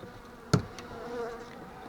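Honeybees buzz close by at a Buckfast hive in a soft continuous drone, with a sharp burst of buzzing as one passes right near, then a faint hum continuing.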